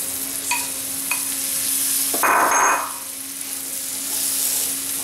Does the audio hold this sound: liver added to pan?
yes